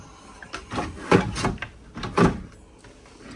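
A kitchen drawer in a 2026 Forest River Rockwood Ultra Lite 2608BS travel trailer slides and thumps shut, with a few soft rattling knocks and scrapes in close succession and no talking.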